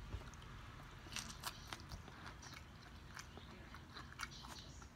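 Quiet, sharp crunches from biting into crisp fried fish skin, several bites and chews spread irregularly, heard up close with no talking.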